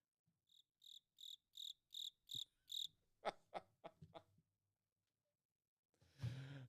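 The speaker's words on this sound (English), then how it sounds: "don't get to use the cricket button often." Soundboard cricket effect: seven evenly spaced bright chirps, clear and close, followed by a short burst of chuckling or breathy voice sounds and a brief noisy rustle at the end.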